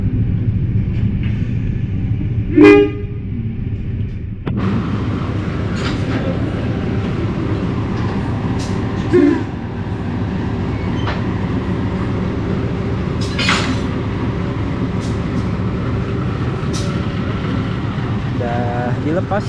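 A train locomotive at Kroya station rumbles steadily on the platform, joined by brief sharp metallic clanks and short tooting bursts, with a voice talking faintly over the ongoing railway noise.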